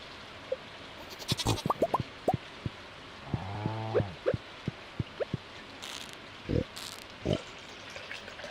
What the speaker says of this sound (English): It's not letting me pet this goat.